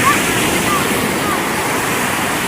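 Large ocean waves break right at the shoreline in a steady, loud roar of surf with constant broadband wash and wind noise. No clear pauses between breakers. The sea is rough but shallow.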